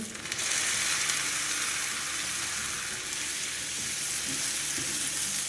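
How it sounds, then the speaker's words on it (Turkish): Vermicelli and rice toasting in a pan for Turkish rice pilaf: a continuous close sizzle and crackle at an even level throughout, with faint stirring and no voices. "Şehriyelerimiz iyice kavruldu. Piricimizi koyalım."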